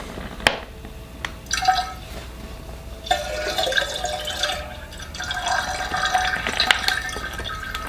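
Liquid yeast poured from a container into a homebrew hefeweizen fermenter: a steady, close splashing trickle of liquid that begins after a few faint clicks and drips and runs on to the end.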